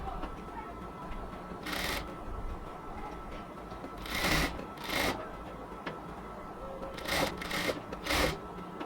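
A sewing machine stitches doubled piping around a cotton kameez neckline, quiet background bursts of rapid needle clatter coming in short runs separated by pauses.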